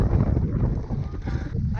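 Strong wind buffets the microphone on a Carnival cruise ship deck, a constant heavy rumbling roar with gusty fluctuations throughout.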